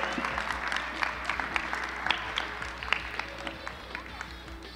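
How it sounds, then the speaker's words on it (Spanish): A crowd claps continuously, a dense patter of many hands applauding throughout, steady and moderately loud. "¿Cuántos pueden levantar un aplauso para esta historia?"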